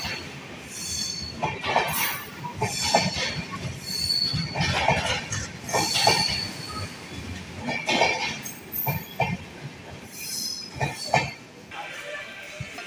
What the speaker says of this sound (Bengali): আমাদের ট্রেন আমাদের এই নকশালবাড়ি স্টেশনে নামিয়ে দিয়ে বেরিয়ে পড়ল আলিপুর দুয়ারের পথে